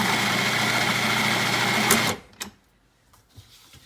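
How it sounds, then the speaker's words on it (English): A food processor purees roasted tomato soup with a loud, steady motor whir that cuts off abruptly after about two seconds, followed by a few faint knocks and handling sounds. "You can do that while it's mixing, but my processor is having a little issue, so I have to hold it down."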